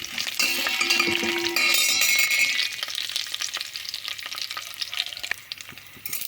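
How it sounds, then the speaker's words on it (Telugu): Garlic, chana dal and urad dal frying in hot oil for a cabbage tomato curry: a loud, dense sizzle up close for the first few seconds, then quieter crackling with occasional clinks of a utensil against the pan. "వెల్లుల్లిపాయ బాగా వేగాలి"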